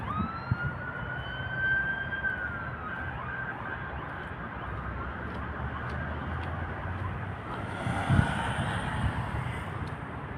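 An ambulance siren wails by outside a busy mall parking area, its rising and falling tone clear in the first few seconds and then fading into a constant wash of traffic noise.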